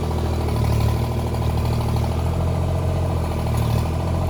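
A tractor engine runs steadily close by while lifting a hot tub, a loud, even mechanical drone with a rhythmic clattering pulse and slight swells in revs.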